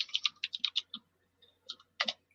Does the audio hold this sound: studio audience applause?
no